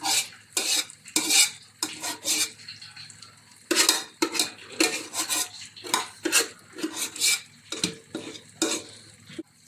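Chunks of tapioca for a sausage kappa biryani are stirred in a metal pan, with repeated scraping and clattering strokes in an uneven rhythm and a faint sizzle between them.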